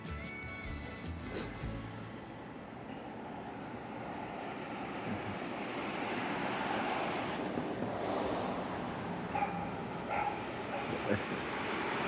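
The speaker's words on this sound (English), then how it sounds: "Oh, there's another dog." A dog barks outdoors near crashing surf, with another dog joining in; the barks are intermittent and partly buried under steady wave noise, a droning aircraft and a person talking.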